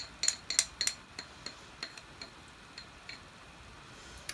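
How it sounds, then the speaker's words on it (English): A brush or small tool clinks and taps against a paint pot while stirring a little water into paint, a run of quick, light metallic ticks, closer and busier at first, then sparser and fainter. "I'm just going to give that a stir."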